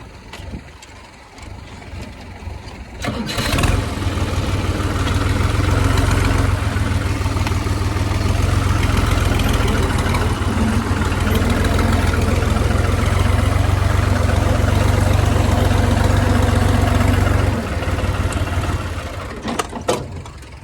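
A heavy tractor engine turns over and settles into a loud, steady idle that runs for most of the stretch before dropping off near the end.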